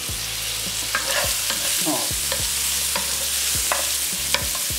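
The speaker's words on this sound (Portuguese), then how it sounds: "Vou lá dar uma mexida" Seasoned rice with broccoli being stirred in a pan, with repeated scraping strokes of a spoon against the pan over a continuous loud sizzle and low hum, close by; a brief spoken word is heard.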